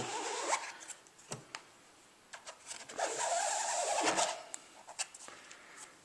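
A squeegee drags ink across a Yudu screen-printing screen, producing quiet, raspy scraping strokes with short clicks and pauses between the pulls.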